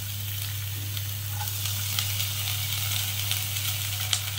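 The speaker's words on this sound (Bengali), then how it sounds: "আমি এই যে পেঁয়াজ কুচি আর লঙ্কা কুচি করে রেখেছি, একদম ছোট করে, খুব ছোট করে কেটে রেখেছি, সেইটা আমি তেলের মধ্যে দিয়ে দেবো" Finely chopped onion and green chilli sizzle in hot oil with a steady, close frying hiss, joined by a few faint stirring clicks and a constant low hum underneath, with no voices.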